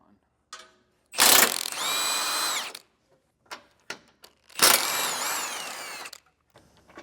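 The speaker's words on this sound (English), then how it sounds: "we're going to be using an 18mm socket to remove the nuts holding up our bumper beam" A ratchet or power driver with an 18mm socket spins off the bumper beam nuts during a trailer hitch install, running in two separate whirring bursts of about a second and a half each, close and loud, with short clicks between them.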